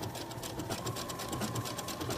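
A sewing machine stitches a pocket seam on knit joggers at a 3/8-inch allowance, giving a fast, even motor whir with rapid needle ticking, steady and close throughout its brief run.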